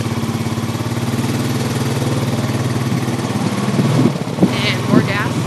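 ATV engine pulling uphill in low gear, a steady mid-pitched drone held throughout, with people talking over it near the end.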